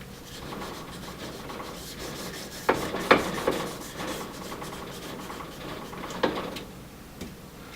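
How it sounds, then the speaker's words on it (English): A cleaning tool scrubbing the bolt race of an AR-15 upper receiver, steady close rubbing and scraping strokes with a few sharper metallic knocks, no talk. "Run it all the way up, back, and what this is doing is cleaning out the bolt race"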